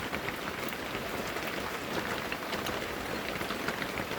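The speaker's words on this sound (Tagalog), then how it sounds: "Maulan ngayong umaga guys. Maulan. Lakas ang ulan." Steady, heavy rain pours down, a dense continuous hiss of drops striking a surface with no letup and no voices.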